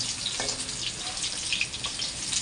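Potatoes frying in hot oil, an even, dense close sizzle with a bright hiss that holds steady throughout, broken by a few small pops.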